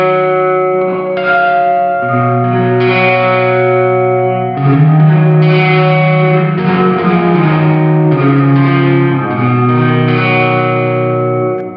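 A Sonicake reverb pedal set to 75% mix on a guitar, giving an almost entirely wet, washed-out reverb with very little dry signal; sustained chords ring and blend into one another at a loud, steady level with no talking.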